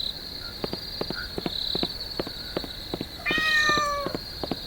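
A black cat gives a clear, drawn-out meow over a backdrop of rhythmic hoof clip-clops and a steady insect or cricket hum at night.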